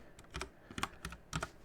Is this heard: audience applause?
no